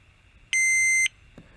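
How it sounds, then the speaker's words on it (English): A single loud electronic beep from a Grundig G8 radio button, a steady high tone lasting about half a second, followed by a faint click against quiet background. "if you touch any button, it will beep quite loudly"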